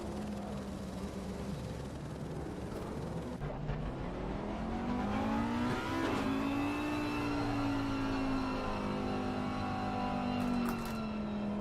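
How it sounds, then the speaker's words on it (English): Race cars rolling through a warm-up lap at Misano in a GT racing video game, a steady loud engine drone with pitch rising and falling as the cars rev and slow, heard on its own without talking. "You can hear the brakes getting warmed up there by Zeddon"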